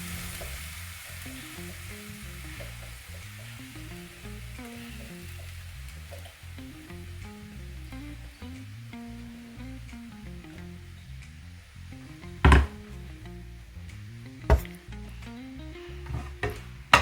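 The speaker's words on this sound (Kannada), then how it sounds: "ಹಾಕಿ ಈ ಟೊಮೆಟೊ ಪ್ಯೂರಿ ಸ್ವಲ್ಪ ಬಾಡಿಸ್ಕೊಳ್ತೀನಿ." Tomato puree with cumin sizzles steadily in a pan for homemade pizza sauce, with soft stirring scrapes throughout and a few sharp utensil clinks near the end.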